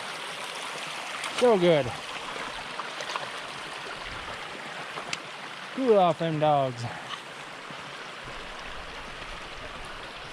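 Ten Mile Creek flows in a steady, broadband rush throughout, with people talking briefly over it at a few points.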